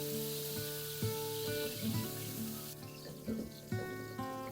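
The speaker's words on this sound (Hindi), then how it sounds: "1 कप बारीक कटी हुई प्याज को सुनहरा होने तक पका लें।" Finely chopped onion fries in hot oil with cumin, a soft steady sizzle with scattered pops and crackles, close and fairly quiet, with no talking.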